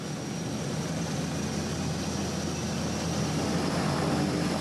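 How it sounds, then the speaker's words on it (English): Airplane engine on an Arctic expedition flight to Bathurst Island in winter: a loud, steady, unbroken drone heard from inside the cabin, with no talking. "So we're finally on our plane."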